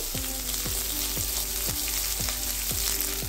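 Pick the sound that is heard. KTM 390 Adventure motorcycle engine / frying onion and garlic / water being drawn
frying onion and garlic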